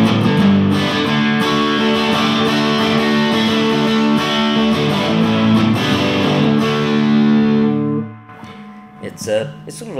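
Loud distorted strumming of an Ampeg Burns Split Sound electric guitar fitted with Wild Dog circuitry, repeated chords sustained for several seconds, then fading as a voice begins speaking.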